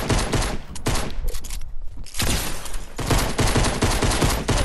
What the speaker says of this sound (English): The new pistol.